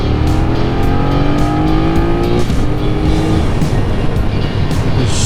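A BMW motorcycle engine revs and accelerates hard, its rising pitch climbing steadily under loud, rushing wind noise, close and forceful.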